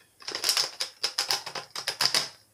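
Tarot cards being shuffled for a reading: about nine crisp riffled bursts in quick, even rhythm, close and fairly loud, with no talking.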